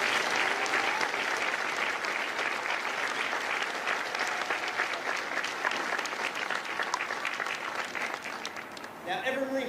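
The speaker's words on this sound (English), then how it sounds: "join me in a round of applause for the officers, the drill instructors, and the families of Company M" Crowd at a Marine Corps recruit graduation at MCRD San Diego applauding, a broad, sustained wave of clapping from a large outdoor audience that fades slightly toward the end as a voice begins speaking.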